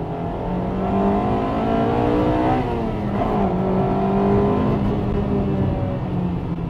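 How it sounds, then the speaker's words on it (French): A 1998 Honda Integra Type R engine revs hard toward redline with VTEC engaging. The loud, close whine climbs and falls in pitch in repeated sweeps with no talk over it. "il faut vraiment avoir la place de pouvoir faire partir le VTEC"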